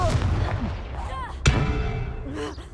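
Confringo fire spell blast in Hogwarts Legacy: a sharp, loud single impact bursting out mid-clip over rumbling battle noise and low game sounds.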